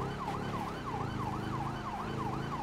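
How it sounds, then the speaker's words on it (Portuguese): A police car siren in GTA V (LSPDFR) wails loud and close, rising and falling steadily about four times per second, over a low engine rumble. "Desligar as sirenes aqui"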